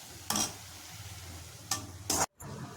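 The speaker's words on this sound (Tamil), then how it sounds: "நம்ம தட்டி வச்ச இஞ்சி பூண்டை அதையும் போட்டு நல்லா வதக்கணும்" Crushed ginger and garlic sautéing in a pan for Madurai mutton chukka, a low steady sizzle broken by three brisk scraping stirs, then a brief silence as it cuts out.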